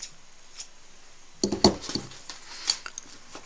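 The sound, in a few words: scissors cutting threads while sewing a quilted bag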